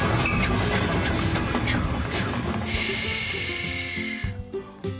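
A toy or cartoon-style train sound in a children's preschool program, rumbling and hissing steadily for several seconds with a brighter hissing whistle-like burst midway before fading, no talking over it.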